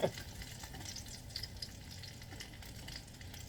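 Apple fritters fry in a Finex cast-iron skillet, a soft steady bubbling hiss that stays faint and even throughout, with no voices.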